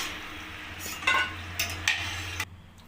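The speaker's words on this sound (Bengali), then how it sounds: "দ্বিতীয়বারের কুচু নিমকিগুলো আমি কড়াইতে দিয়ে দিচ্ছি অল্প অল্প করে।" Strips of kucho nimki dough drop into hot oil in a wok and deep-fry with a constant close sizzle, punctuated by several brief, louder bursts of spattering and stirring, with no voices.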